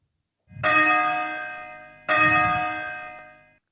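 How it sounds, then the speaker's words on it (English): Two clear bell strikes about one and a half seconds apart from a simulated church bell ringing app, each ringing out with a bright, sustained tone that slowly fades. "Ringers can make their bell sound by pressing the J key or spacebar"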